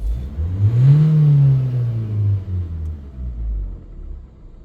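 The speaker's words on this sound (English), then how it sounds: "let's have the engine running and give it a rev." Nissan NV300 van engine with P0471 and P0470 fault codes idling, then revved once, a deep rumble climbing to a loud, steady rise before falling back to a lower idle.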